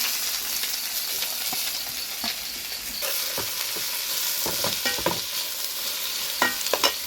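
Onions frying in a pan for chicken biryani, a steady sizzle under repeated spatula scrapes and stirring knocks that grow more frequent toward the end.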